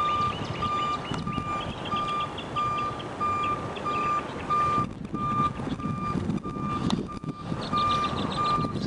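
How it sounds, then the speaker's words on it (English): A BNSF Railway hi-rail truck backing up sounds a steady, evenly spaced series of loud electronic reversing beeps over a rumbling engine and outdoor background noise. "So BNSF Railways high rail truck."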